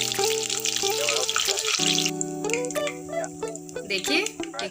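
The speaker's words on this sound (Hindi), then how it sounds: "देखिए हमारे दूसरे बैच के पनीर भी फ्राई हो रहे हैं।" Paneer cubes frying in hot oil, a continuous bright sizzle under steady background music with clinking touches.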